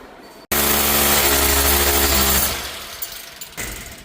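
A power drill bores a hole in the wall while a Kenwood 18000 BTU mini split air conditioner is being installed. It starts abruptly, grinds loudly and continuously for about two seconds, then trails off as the drilling eases.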